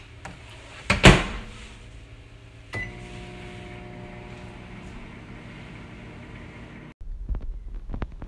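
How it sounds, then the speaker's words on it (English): A door clunks shut with a sharp knock, then a microwave oven hums steadily for several seconds heating a carrot before stopping, followed by faint clicks. "We now carefully place the carrot in the microwave for 2 minutes."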